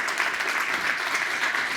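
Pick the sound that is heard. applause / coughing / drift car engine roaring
applause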